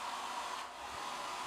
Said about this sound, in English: You also have a hairdryer.